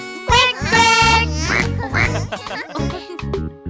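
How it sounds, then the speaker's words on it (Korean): A cartoonish duck quacks repeatedly in a bouncy rhythm within a children's song, loud and close, mixed with sung melody and music. "정답 나는 바로 꽥꽥오리"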